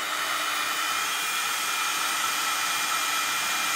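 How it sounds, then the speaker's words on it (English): A handheld heat embossing tool blows hot air in a constant, even whoosh like a small hair dryer, held close and running steadily without talk. "once more with the heat tool"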